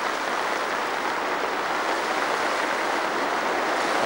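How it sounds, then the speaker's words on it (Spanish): Fast water rushing along a lined roadside ditch during a flood between Cocentaina and Beniarrés, a steady, loud broadband roar that stays constant and close throughout with no voices. "La velocidad que coge el agua en la cuneta revestida"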